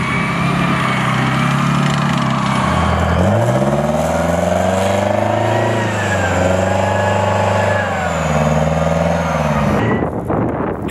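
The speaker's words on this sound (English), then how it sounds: "an M992 field artillery ammunition supply vehicle, built on the frame of an M109." An M992 field artillery ammunition supply vehicle built on an M109 chassis, its engine droning loud and close, rising and falling in pitch as it revs, then cutting off abruptly near the end.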